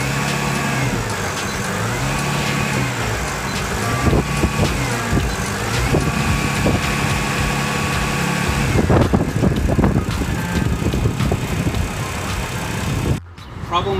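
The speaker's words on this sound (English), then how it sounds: "the engine will actually be running. I'm going to run it at high idle" A 2016 Mercruiser 4.5L ECT MPI boat engine runs at high idle, a steady droning hum with harmonic tones, joined midway by clattering knocks before cutting off sharply near the end.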